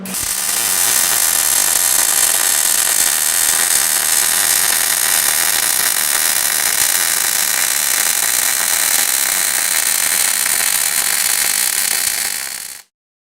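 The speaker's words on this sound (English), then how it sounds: "your gun should be at 90 degrees to your workpiece and 10 degrees tilted back, welding with a slight weave" MIG welding gun laying a flat butt weld with a slight side-to-side weave, giving a steady, loud, continuous crackling hiss that runs unbroken for about thirteen seconds before cutting off abruptly.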